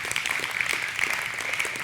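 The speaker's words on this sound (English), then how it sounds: "And thank you for the applause." Brief, steady applause from an audience welcoming Dr. Grady McMurtry before his talk, a dense patter of clapping at moderate level with no voices over it.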